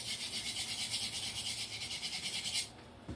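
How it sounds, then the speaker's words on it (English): Pencil graphite being rubbed back and forth over sandpaper to sharpen it, a steady close, soft scratchy rasp with a faint rhythmic texture that stops abruptly near the end. "you just kind of run it over a piece of sandpaper or semi-rough surface"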